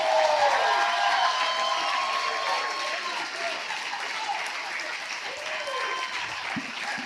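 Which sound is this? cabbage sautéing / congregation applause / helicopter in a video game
congregation applause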